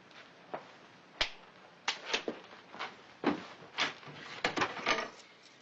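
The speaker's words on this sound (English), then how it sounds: "Open the drawer and get back over there." A desk drawer is handled in an office scene from a western drama, heard as a string of sharp wooden clicks, knocks and sliding rattles spread across several seconds with no talking.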